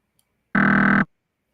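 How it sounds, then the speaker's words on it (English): A wrong-answer quiz buzzer sound effect played from a keyboard: one loud, flat, harsh buzz lasting about half a second, isolated in silence. "It's called quiz bad choice buzzer effects."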